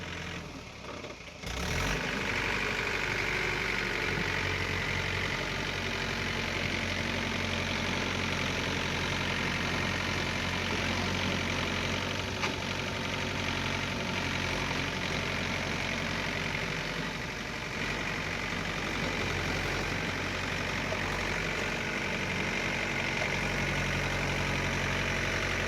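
A Mahindra 475 DI tractor stuck in mud runs its diesel engine continuously, a loud, steady, low rumbling idle with slight knocking that holds for the whole stretch after a brief quiet start.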